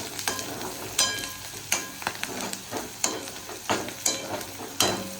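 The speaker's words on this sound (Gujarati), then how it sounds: "વારંવાર એને હલાવતા રહેવું જેથી આપણું શાક દાજી ના જાય." Green turmeric sabzi sizzles steadily in a pan while a spoon stirs it in regular scraping strokes about once a second, close and clear with no talk.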